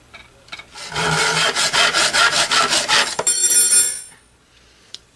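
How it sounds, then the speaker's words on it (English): A hand saw cuts through a metal rod on a 1920s Superior gum machine under repair, with steady rhythmic rasping strokes of about three per second, close and loud, ending in a brief ringing scrape and a small tap. "when you cut these rods, you end up wrecking the thread"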